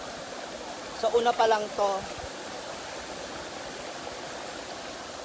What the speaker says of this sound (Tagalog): Ito yung first Falls.